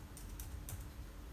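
Keys clack on a computer keyboard while a user works in SketchUp design software, a few quiet, distinct taps spread over a steady background hiss, with no voices.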